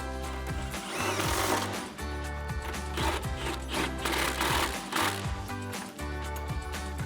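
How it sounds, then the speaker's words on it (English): Impact wrench fitted with an extension and 16mm swivel tightening bolts during a coilover install on a 2011-2023 Dodge Challenger, giving close, loud rattling bursts of hammering with short pauses between runs. "Then we're gonna grab our impact extension and 16mm swivel and tighten those two down."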